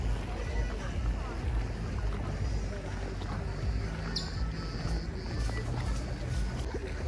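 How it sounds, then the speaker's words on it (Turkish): Steady outboard-motor drone and water wash as small dinghies from anchored yachts motor in toward a pier in a bay, with wind buffeting the microphone throughout. "Akşam saati yaklaşınca botlar teknelerden bir bir iskeleye yanaşmaya başladı"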